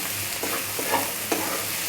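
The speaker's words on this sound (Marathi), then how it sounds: "कांदा चांगला फ्राय झाला आहे आणि कमी पण झाला आहे" Onions frying in a pan give a soft, steady sizzle, broken by a few quiet scrapes as they are stirred. The pan is close and there is no talk.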